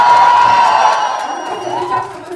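An audience cheers at a film's success celebration event. Loud crowd cheering and shouting rings out from the start, a sustained roar of many voices that eases slightly toward the end.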